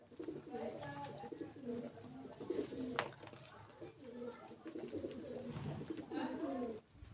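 Pet pigeons or doves cooing steadily close by, repeated soft low coos running throughout with brief pauses, some faint background noise underneath.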